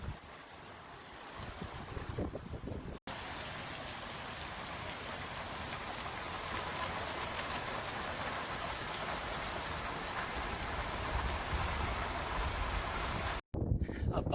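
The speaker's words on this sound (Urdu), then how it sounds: "کافی زیادہ تیز بارش ہے" Heavy rain pours steadily on a roadside shelter along a mountain highway near Battagram, a dense continuous hiss, with brief quieter gaps at the start and end.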